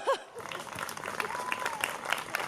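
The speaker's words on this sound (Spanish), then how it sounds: "Un fuerte aplauso" Applause from an audience at a municipal presentation event in Burlada, welcoming a speaker to the stage; moderate, fairly steady clapping with some voices murmuring underneath.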